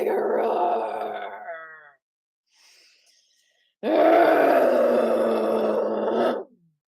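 People in a live qi gong class imitate a tiger roar with their voices: a long, loud, groaning roar, a brief quiet pause, then a second sustained roar that is even louder.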